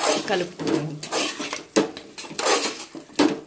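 Chicken being mixed by hand with chilli powder, coriander powder, salt and turmeric in a metal vessel for natukodi fry, giving close scraping, clattering knocks and rubbing in an uneven rhythm.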